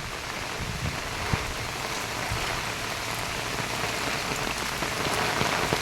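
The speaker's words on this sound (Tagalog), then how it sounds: "Ayan na, lumalakas na guys ang ulan." Heavy typhoon rain pours steadily in Vigan, Ilocos Sur, a dense, even hiss of drops drumming on surfaces with no pauses or voices.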